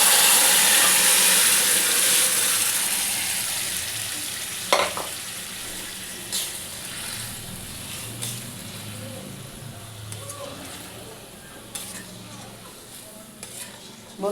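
Boiled rice and lentil khichri ingredients are tipped into a pan and start to fry, a bright sizzle that fades gradually while a spoon scrapes and clinks against the pan in scattered strokes.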